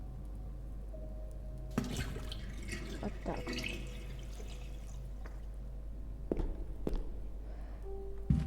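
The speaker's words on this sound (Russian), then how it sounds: "Я забыл, как спустить воду." A toilet is flushed, releasing a loud rush of running water for about two seconds, then trickles, drips and a few footsteps follow; a voice speaks briefly.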